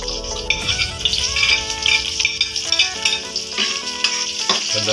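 Onion sizzles and crackles in a hot frying pan, a busy spitting fry layered with clinks and scraping of stirring, close and fairly loud, with no talking.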